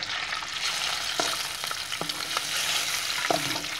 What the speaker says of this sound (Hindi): घी में हम मछली का एक टुकड़ा डालेंगे और सबसे पहले उसको जो है वो थोड़ा सा तल लेंगे।